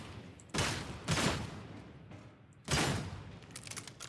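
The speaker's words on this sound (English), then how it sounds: "you pull out the revolver, you lay down some shots into something" Revolver shots in Warhammer 40K: Darktide, three loud sharp bursts spaced about a second or more apart, each followed by a ringing decay and light mechanical clatter.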